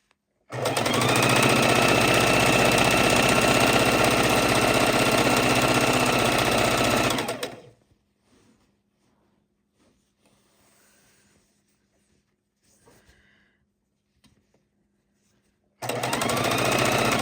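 A sewing machine runs loud and steady for about seven seconds, stitching scrappy quilt seams with a tight stitch and quarter-inch seam allowance, then stops; quiet handling noises follow before the motor starts up again near the end.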